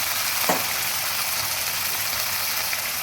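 Sizzling of fried ground spice paste in a pan for a chickpea and potato curry as a little water goes in, a steady loud hiss with a brief sharper burst near the start, no talking.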